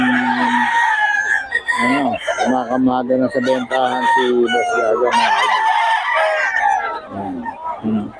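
Roosters crowing and hens clucking at a busy Friday poultry market, several birds calling close and loud in overlapping bursts, with someone talking over them.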